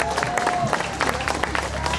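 Audience applause for a female Master of Ceremonies at a civic Christmas creche blessing ceremony in San Fernando, Trinidad and Tobago: steady, moderately loud clapping from a crowd, lasting about two seconds with a dense, even texture.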